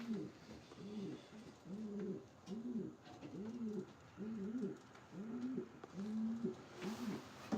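Racing pigeons in a loft coo in a steady series of soft, rolling calls repeated about every second, close and clear over a low background hiss.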